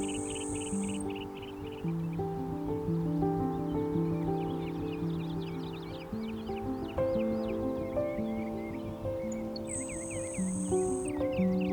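A small grassland bird sings a series of thin, high chirping phrases over a background of other birds calling and chattering at a sunrise field.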